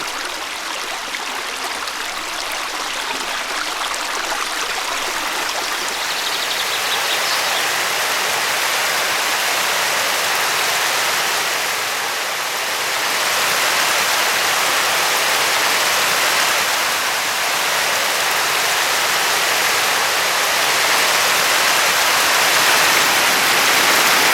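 A rust-coloured mountain stream near the village of Karłów in the Table Mountains rushes steadily, a loud, close, continuous broadband wash of flowing water with no voices.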